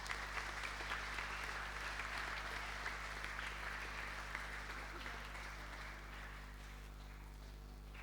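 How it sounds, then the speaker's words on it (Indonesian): A congregation applauds at an Easter morning Mass in the Santo Lukas parish church in Pemalang, a soft, steady patter of clapping held at a distance that fades slightly toward the end. "Kita beri tepuk tangan untuk mereka."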